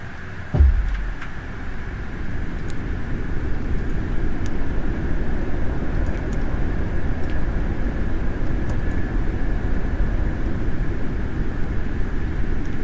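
An Airbus A321neo in Microsoft Flight Simulator 2024 lowers its landing gear with a low thud, followed by a steady roar of airflow and rumble in the cabin.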